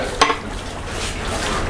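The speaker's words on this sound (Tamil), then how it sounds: "நான் கிண்டிக்கிட்டு இருக்கேன்." A large pot of chicken gravy, 30 kg, is stirred, with a clank of a ladle against the pot at the start, then a low bubbling, simmering hiss that continues steadily.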